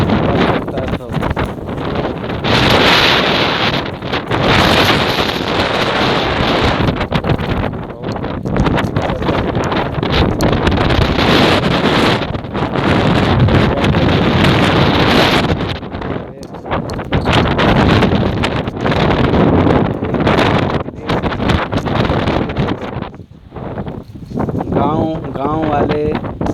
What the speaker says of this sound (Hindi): इसी तरह हवा चलता है